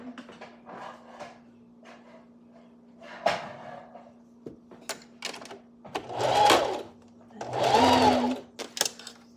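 A sewing machine stitches a dress in short, uneven bursts, whirring up a few times between pauses, clicks and handling noises, with a quiet steady hum underneath.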